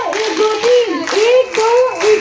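A group claps hands on request in a few loose bursts while voices call out and chant loudly over the claps.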